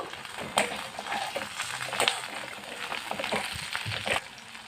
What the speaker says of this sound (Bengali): দিয়ে দেবো এর মধ্যে একটু টমেটো কচি দিয়ে এটাকেও ভেজে নেব